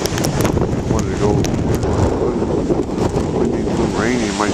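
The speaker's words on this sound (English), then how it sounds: "windy and rainy." Strong wind with rain at the shore beside a lighthouse on a day of big waves: dense, constant roaring rush and buffeting on the microphone, with a faint voice underneath.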